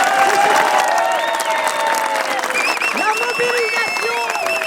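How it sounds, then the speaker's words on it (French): Crowd at an outdoor protest rally over a lakeside water area claps steadily, with scattered whistles and cheers mixed into the applause throughout. "Donc on peut les applaudir."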